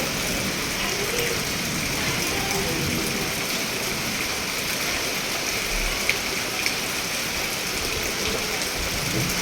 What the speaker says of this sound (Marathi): खूप पाऊस पडला आहे